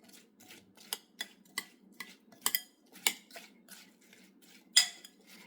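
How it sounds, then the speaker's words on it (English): A spoon stirs apple juice in a cup, making light, irregular metallic clinks and taps against the sides at a soft, close level. "I'm going to grab a spoon and I am going to stir that up"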